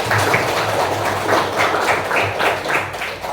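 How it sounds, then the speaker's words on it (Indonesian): A class of students claps their hands together in an Indonesian classroom, producing a steady run of loud, close, rhythmic bursts of applause over about three seconds, with no talking. "Tepuk tangan untuk kita semua."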